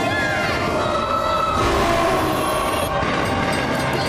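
A train rushes past in a rail safety ad, a loud sustained roar with rattling wheels and a rising hiss, with a voice talking partway through.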